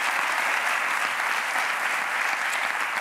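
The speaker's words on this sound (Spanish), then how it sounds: "Un aplauso para Mikel Rico, que está el tío ahí." Studio audience applause for footballer Mikel Rico on a late-night TV talk show, a dense, steady wash of clapping that fills the whole stretch at even loudness with no voices over it.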